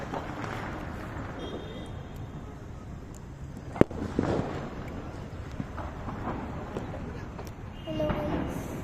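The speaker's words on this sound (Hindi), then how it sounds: "ये पटाखों की आवाज अगर आपको सुनाई दे रही है" Diwali firecrackers go off outdoors during a festive celebration, with one sharp bang and a few fainter crackles and pops amid ongoing crowd noise and voices.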